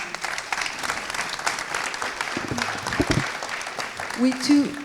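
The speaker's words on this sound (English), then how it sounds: "Great applause" Audience applause at a round-table discussion on digital technology for future buildings, a dense wash of clapping filling the whole stretch, with a brief voice emerging near the end.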